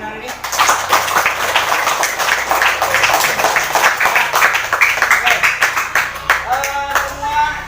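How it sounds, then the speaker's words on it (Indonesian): A group of schoolchildren in a primary school sports lesson clap their hands together in a dense, steady burst of applause, close and loud, with voices chattering underneath. "tepuk tangan untuk kegiatan belajar hari ini"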